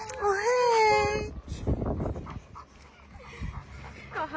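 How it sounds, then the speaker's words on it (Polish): A small dog pants in quick, close breaths with whimpering during a tennis lesson on a court, rising over a coach's voice. "Kocham takie pieski."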